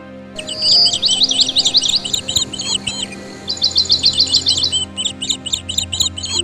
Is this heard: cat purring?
no